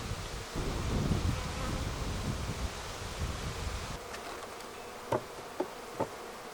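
Honeybees buzz in a dense, steady hum around an open beehive box full of honey, loud and close at first and then thinning out, with a few soft clicks or knocks near the end.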